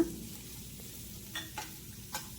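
Chopped garlic and onions frying in a little hot oil in a pan: a low, steady sizzle with a few brief spatula scrapes, close and quiet, with no talking.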